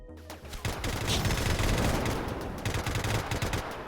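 Sustained automatic turret gunfire in the video game Rimworld, a dense, loud rattle of rapid shots running continuously with no talk over it.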